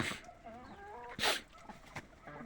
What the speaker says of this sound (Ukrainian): Ось гарна курка стоїть.